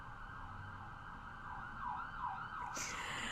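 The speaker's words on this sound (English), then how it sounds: "There's a siren" A siren wails in the distance with a rising and falling pitch, steady and moderately faint over background noise.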